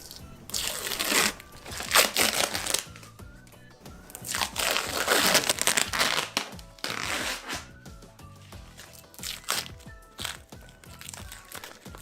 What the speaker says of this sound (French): ce petit moment satisfaisant où on enlève les scotch et on voit le bois qui apparaît